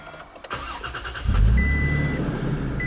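A Toyota Tacoma pickup's engine cranks and catches, then settles into a loud, steady idle up close, while a thin electronic chime beeps faintly in the background.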